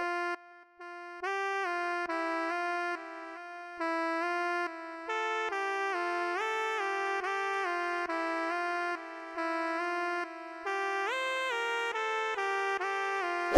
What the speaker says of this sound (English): this lead is called the Simple Pulse lead from Purity